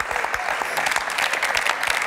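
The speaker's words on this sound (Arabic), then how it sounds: "تصفيق على يوسف" Studio audience applause on a TV variety show, a dense steady clapping that stays loud and even throughout, close and unbroken.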